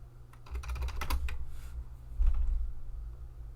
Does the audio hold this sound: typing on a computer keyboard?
yes